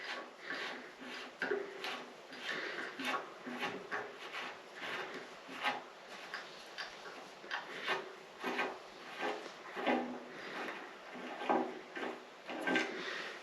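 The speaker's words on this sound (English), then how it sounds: "I'll just go ahead and back the tap right out here." A cut tap with a tapered end being backed out of a freshly threaded through hole, repeated rhythmic scraping and ratcheting turns close up, steady and without speech.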